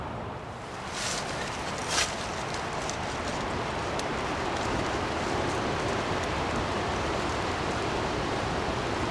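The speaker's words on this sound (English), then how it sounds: "That wind's really going now, guys. It's raining out here now." Steady rain hisses across the whole stretch, with a broad rushing roar of wind behind it and a few brief gusty swells.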